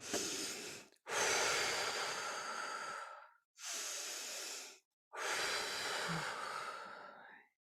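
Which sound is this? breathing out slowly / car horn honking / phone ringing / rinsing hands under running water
breathing out slowly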